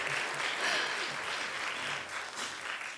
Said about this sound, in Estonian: Teeme aplausi talle.